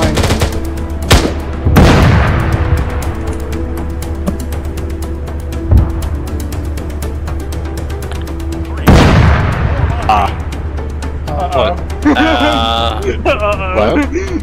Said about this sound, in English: We're being shot at.